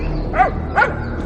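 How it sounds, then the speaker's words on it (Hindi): A dog barks twice in quick succession, two short yappy barks close by over a low background rumble, with no talking. "उसका भौंकना तो बंद होने का नाम ही नहीं ले रहा था।"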